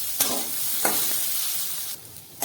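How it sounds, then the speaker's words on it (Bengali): Desi potatoes are stirred in a pan between lid lifts, a few short scraping strokes over a soft, steady sizzle. "আবারও বালা কইরা লাড়াচাড়া কইরা দেই"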